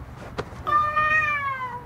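A single cat meows in an anime episode: a short tonal, slightly rising-then-falling meow, clear and fairly close, after a brief faint sound, with no talk.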